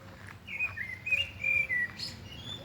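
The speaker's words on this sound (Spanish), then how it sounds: "¿Oís los pajaritos?" Small birds sing in an urban setting, a series of high, thin chirps and trills coming in short bursts over a quiet background hush, fairly close and clear.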